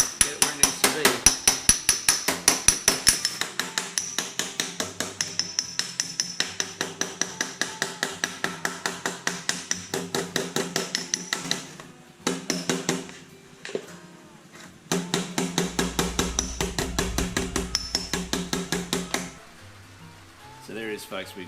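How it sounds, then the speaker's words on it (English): A planishing hammer strikes sheet metal over a dolly as a custom metal grill shell is shaped, producing rapid, steady metallic blows in long runs with brief pauses, ringing and close. "we're just going to use my old dolly, the old planishing hammer. We're just going to walk it around"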